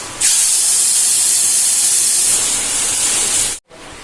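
Poppy seed paste dropped into a hot pan, bursting into a loud, sustained, close sizzle that holds steady for several seconds, then cuts off abruptly before a brief return.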